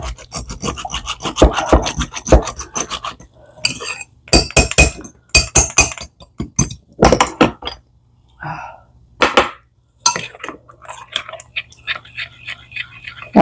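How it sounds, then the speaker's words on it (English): A small pump whisk plunged up and down through a cabbage slaw dressing made with honey, giving a rapid series of close, raspy rubbing and clinking strokes in bursts with short pauses. "it's a little whisk that you pump up and down like that, and that mixes it up really good"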